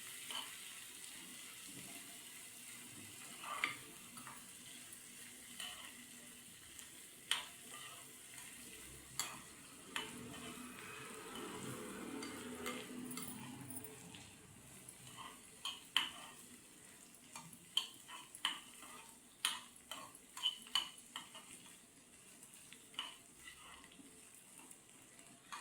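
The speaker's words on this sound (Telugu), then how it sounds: "ఇదండి, రొయ్యలు వేగిపోయినాయి." Dried shrimp fry in a pan with salt, chilli powder and turmeric, a faint low sizzle broken by repeated sharp scrapes and taps of a spoon stirring, spaced unevenly across the stretch.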